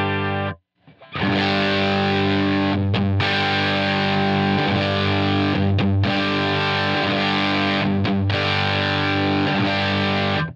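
A distorted electric guitar played through a Line 6 Helix, with the EQ boosting everything above 650 Hz and cutting below, sustains loud, thick chords with a few brief breaks, heard alone without speech.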